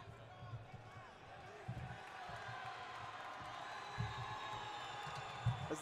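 Arena crowd at the Auditorio Fausto Gutierrez Moreno cheering two MMA fighters before the final round of Arturo Lemus vs Antonio Tony Medrano, a steady broad roar with a few louder thumps and swells rising and falling throughout.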